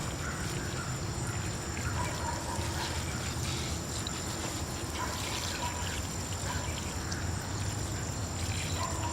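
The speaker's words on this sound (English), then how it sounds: "Wash those rocks off." Water pours and splashes steadily over rocks rinsed for a bonsai display, a continuous close wash of sound without any talking.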